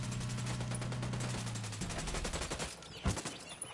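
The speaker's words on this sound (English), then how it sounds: "Opening fire on these fuckers." Gunfire in Ghost Recon Wildlands, with a dense rattle of automatic shots over a low droning hum and one heavier thump near the end, all at a moderate distance.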